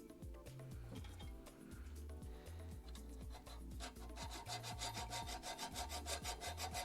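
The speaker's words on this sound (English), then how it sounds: "All right, hacksaw it is." A hacksaw cuts through a workpiece in a garage with quick, rhythmic back-and-forth rasping strokes, close and steady, speeding up toward the end.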